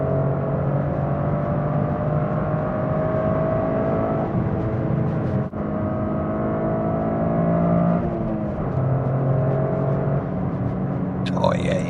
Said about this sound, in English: after my little drive right there, kind of rolling through the gears